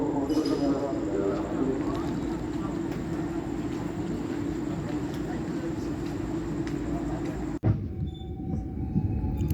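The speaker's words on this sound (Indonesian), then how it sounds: "saat ini kita sudah diberangkatkan dari stasiun Pekalongan menuju stasiun pemberhentian kita, yaitu stasiun Semarang Tawang" KA Gumarang business-class train pulling out of Pekalongan station toward Semarang Tawang, a steady rumbling interior drone with rolling wheel noise and a sharp clunk near the end, continuous and close.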